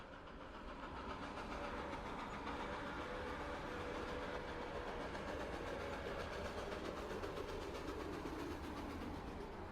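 A steady, rumbling train rolls along on its rails with a continuous dense roar and faint rhythmic clatter throughout, no voices present.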